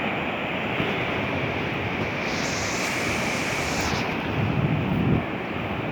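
A rain-swollen river rushes in a dense, steady roar, close and loud for six seconds with wind buffeting the microphone and no voices.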